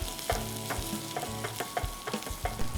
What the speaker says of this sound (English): I'm going to add the ginger paste and the garlic paste. And let this cook through.